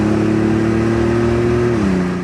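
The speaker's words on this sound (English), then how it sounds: "Downshifts like it should." Inside a 1987 Buick Grand National with a turbocharged 3.8 engine during a test drive, the engine hums steadily under load, then its pitch drops noticeably as the transmission downshifts near the end.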